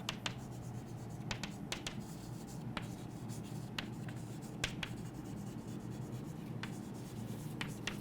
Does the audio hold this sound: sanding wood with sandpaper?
no